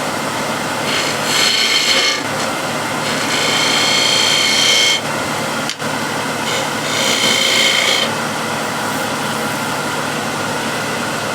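A spindle gouge cutting wood turning on a lathe, a steady loud scraping hiss with the motor hum beneath, swelling in several long passes and briefly dropping out near the middle.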